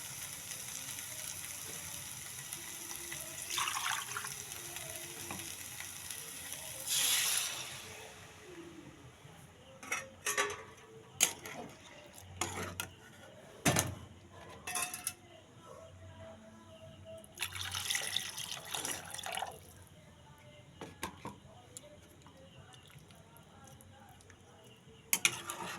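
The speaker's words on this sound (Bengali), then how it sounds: "এবার এতে আমি জল ঢেলে দিয়ে দেব।" Water being poured into a pan of potatoes and eggs, with faint splashing and trickling in a few bursts amid intermittent clinks and kitchen handling noises, fairly quiet overall.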